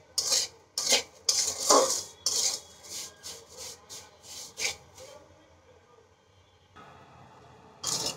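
Vermicelli frying in a pan for condensed-milk semai barfi, stirred with a utensil that scrapes and clatters against the metal in repeated close strokes, then a quieter stretch before the scraping resumes.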